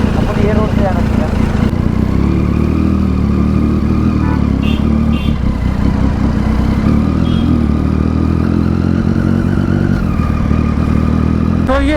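A superbike fitted with an aftermarket exhaust rumbles steadily while being ridden on a city road, a loud, constant low engine drone throughout, with a rider's voice heard over it.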